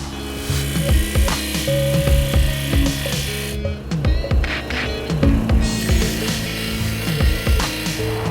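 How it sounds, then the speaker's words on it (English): A corner is ground off a spacer for a WaterPORT portable shower install on a Gladiator, giving continuous close, rasping, rhythmic grinding strokes over a steady motor hum. "so we'll just grind a little bit of the corner off"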